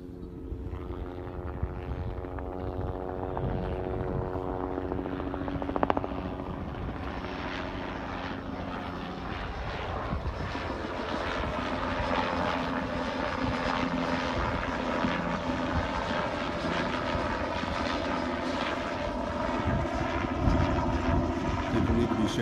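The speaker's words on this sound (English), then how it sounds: "Helicopters are coming." Helicopter flying overhead at a Dakota Access Pipeline protest site, a steady broad rotor and engine drone running throughout at moderate loudness, with a low harmonic hum near the start and faint voices in the background.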